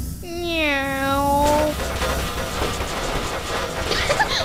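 A human voice imitates a cat's meow in a single clear, drawn-out call with a falling pitch, followed by a lower, rumbling background.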